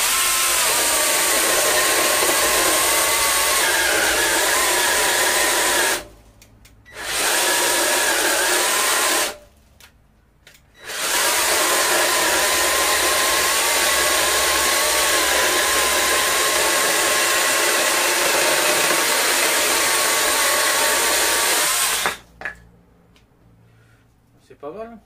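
A WORX battery-powered mini chainsaw with a 12 cm bar runs loud and close, a continuous high motor whine cutting wood that stops twice briefly, then cuts out near the end.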